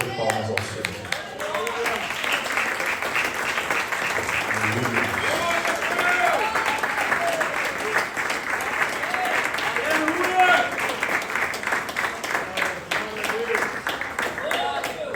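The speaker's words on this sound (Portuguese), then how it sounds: "Vamos dar a melhor salva de palmas ao Senhor." A church congregation breaks into sustained, dense applause that carries on steadily, with a voice speaking over the clapping.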